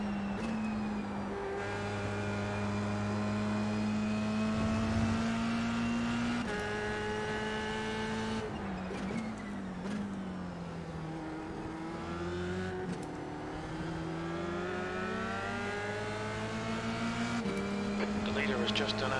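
Formula 3 race car engines lapping Silverstone in the iRacing sim, a loud continuous near engine drone with rising and falling pitch through gear changes and corners, other cars audible around it, under occasional talk.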